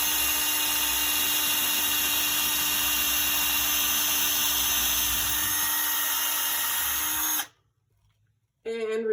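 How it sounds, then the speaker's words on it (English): A power drill whines steadily and loudly as its bit bores straight down into wood held over a protective stack, running continuously for about seven seconds before cutting off abruptly, with a brief voice following. "So I just set it on the hole and we drill straight"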